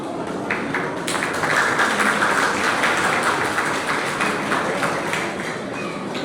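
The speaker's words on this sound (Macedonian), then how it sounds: "Да им оддадеме голем аплауз и благодарност на овогодинешните поддржувачи и спонзори." Audience applause at an outdoor bean festival in a village near Tetovo, a sustained wash of clapping from a crowd that swells and holds, with a few voices mixed in.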